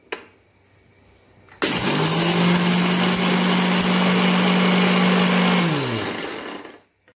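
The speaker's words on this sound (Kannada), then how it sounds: "ಇದಕ್ಕೆ ಮುಚ್ಚಳ ಮುಚ್ಚಿ ಇದನ್ನು ಇಲ್ಲಿ ಸ್ವಲ್ಪ ಒಂದು ಕೋಸ್ಲಿ ಗ್ರೈಂಡ್ ಮಾಡುವ" A mixer grinder coarsely grinds roasted gram for modaka, starting abruptly into a loud, steady whirring roar with a droning motor hum that holds for about five seconds, then winds down and stops. No one speaks over it.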